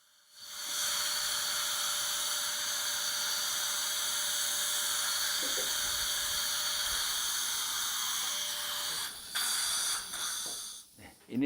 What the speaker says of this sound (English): I'm drilling full length to flatten this area.